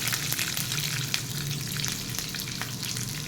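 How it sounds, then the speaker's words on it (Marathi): Curry leaves and green chillies sizzle and crackle in hot oil with urad and chana dal for a Marathi-style raw mango rice tempering, a steady close, loud frying hiss with occasional sharp pops and stirring, no voices. "आता त्याच्यामध्ये आपण कढीपत्ता आणि मिरच्या घालूया अर्धा चमचा हळद घालूया"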